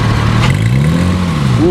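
A Gintani-tuned Lamborghini SVJ engine holds a loud, steady rev, its deep drone sliding slowly upward in pitch and then rising again at the end, with no talk over it.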